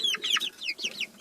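Mixed flock of chickens, including Rhode Island Reds, Barred Rocks, Australorps and crossbreeds, clucking and squawking agitatedly inside a coop, close and continuous with rapid overlapping calls.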